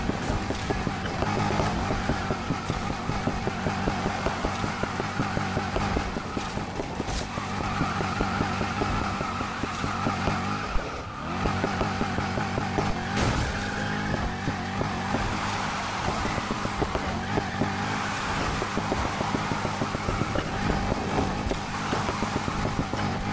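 Car with a powerful engine drifting in Need for Speed Heat around Palm City centre: a continuous, loud engine roar with rising and falling revs and tire squeal, holding steady throughout with a brief dip midway.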